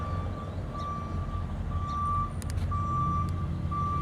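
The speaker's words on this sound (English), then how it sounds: "a construction truck would back out with his beeper on right about now" A construction truck's reversing beeper sounds at a distance outdoors, a steady series of regular electronic beeps pulsing over low engine rumble.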